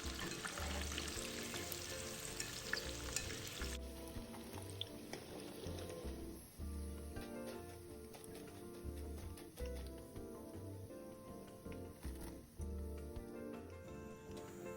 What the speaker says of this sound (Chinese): 全程中小火炸至表面微金黄后，捞出沥油，静置约2分钟。